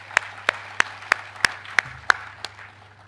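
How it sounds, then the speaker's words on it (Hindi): Clapping in an auditorium at a business and leadership conclave: a steady, evenly spaced run of about ten crisp claps that thins out at the end, over a low electrical hum. "अपने लिए तालियां बजा दीजिए।"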